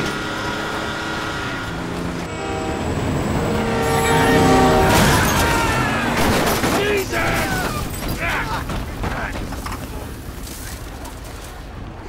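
A train rushes past during a car chase in the video game GTA 5, swelling loud mid-clip with a horn-like blare over engine roar, crashes and sharp bursts of game noise.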